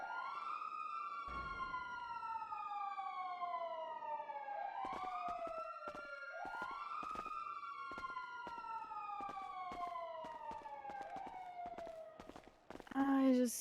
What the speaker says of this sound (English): The sirens never stop.